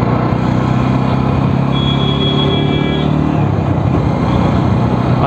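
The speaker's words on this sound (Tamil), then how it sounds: "டீசெண்டாக இருக்குது எக்ஸாஸ்ட் நோட்டு, ஜாவா பராக் அளவுக்கு இல்லை." A Jawa 42 BS6 motorcycle exhaust thrums continuously while riding, with a close, steady low engine note and constant rushing wind noise throughout.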